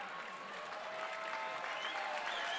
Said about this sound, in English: Crowd cheering Gary as he tries to come to his feet